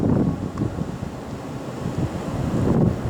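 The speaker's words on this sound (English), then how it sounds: "the wind's died down, but I'll give you an idea" Steady wind roars and gusts through a snowy blizzard with no talking, a continuous rushing noise that swells again near the end.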